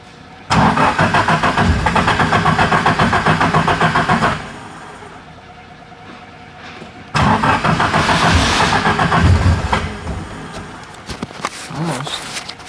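A Nissan SR20DET engine in a Datsun 510 cold-starts twice: a loud burst of cranking catches into a rough, rumbling run, then drops back to quiet. The second start settles into an uneven idle, with voices talking over it.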